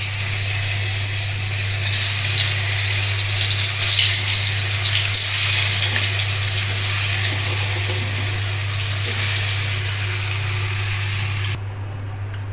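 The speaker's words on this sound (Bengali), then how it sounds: "মাছগুলো ভাজা শেষ," Fish frying in hot oil in a pan gives a loud, continuous close-up sizzle over a steady low hum, running without pause and cutting off abruptly just before the end.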